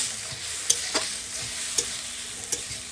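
Spices with chilli powder and a little water frying and being stirred in a pan, a steady sizzle broken by several sharp scraping strokes of a spatula at irregular intervals.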